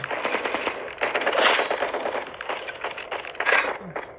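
Rapid bursts of gunfire in the mobile shooter Bullet Echo crackle in quick, uneven volleys, fairly loud throughout with no talk over them.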